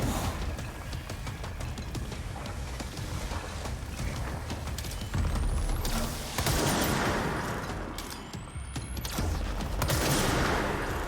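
Pierce gun in the video game Control fires in dense bursts, loud and close, with repeated crackling shots and impacts layered over game ambience.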